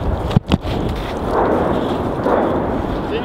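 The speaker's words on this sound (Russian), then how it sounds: "Слышишь, вот это выходят эти градинки." Outgoing Grad rocket launches in a city under shelling: a sharp double thump near the start, then a sustained rumbling roar that swells twice, fairly loud and carrying through the whole stretch, with no talk over it.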